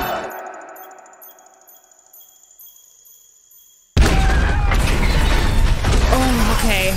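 A pipe bomb explodes in a Star Wars Andor episode: a ringing, metallic sequence decays into near silence, then a sudden loud burst of blast and sustained roaring debris noise.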